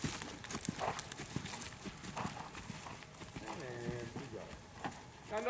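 Hooves of a horse on a lunge line thud and clip-clop on the ground as it moves up from trot into canter, with someone speaking over the footfalls.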